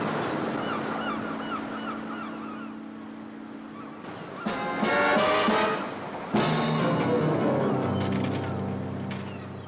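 Seabirds call at a coastal sanctuary, with repeated honking cries over a low background, then a louder cluster of calls near the middle and again toward the end.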